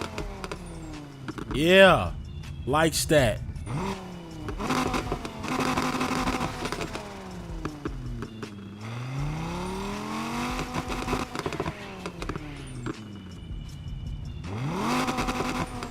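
Acura NSX engine from Need for Speed Heat starting up and revving, with several rising and falling rev sweeps that are loud and close, under someone talking throughout.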